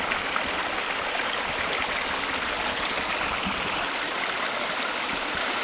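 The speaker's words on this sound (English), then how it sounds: "A babbling brook full of boulders." A babbling brook full of boulders in the Cranberry Wilderness of Monongahela National Forest rushes steadily, a close, continuous broadband wash of flowing water with no voices.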